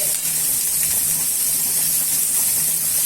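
Garlic and curry leaves sautéing in a pan, a steady broadband sizzle and hiss that holds without a break from start to finish, with no talk.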